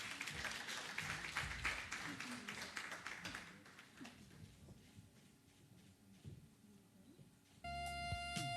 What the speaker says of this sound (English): Could we give them another round of applause, please?